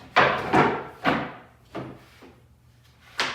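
Wood tray being secured onto a CNC machine bed, several sharp wooden knocks and clamping thuds spaced irregularly, close and fairly loud with brief decays between.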